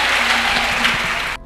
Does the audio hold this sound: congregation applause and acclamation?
yes